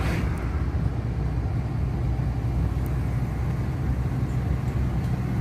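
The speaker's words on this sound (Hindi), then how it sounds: "रास्ता दें, गाड़ी आ रही है" A car on the road makes a close, steady low rumble of engine and tyre noise that stays level the whole time, with no clear rise or pass-by.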